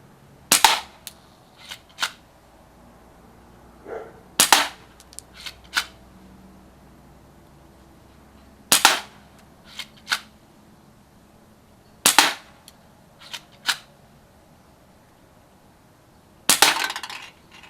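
A Crosman PSM45 air pistol fires a series of rounds at a shooting range, each shot a sharp loud crack spaced several seconds apart, with softer clicks and handling noises between shots.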